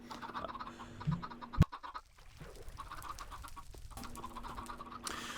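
Chickens cluck in a Minecraft chicken cube, with repeated soft clucks and bird calls throughout, one sharper squawk standing out near the middle, moderately close and quiet.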